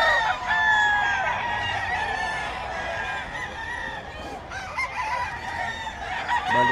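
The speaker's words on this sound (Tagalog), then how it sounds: "Balik ko yung mga manok ni Boss Batang." Roosters crow repeatedly and chickens cluck in a noisy, crowded chorus at a pet market, several birds overlapping close by.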